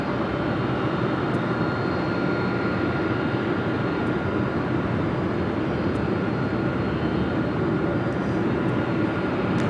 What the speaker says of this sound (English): Looks like that DHL Coletta Air 747-400 be taken off on at 25 right.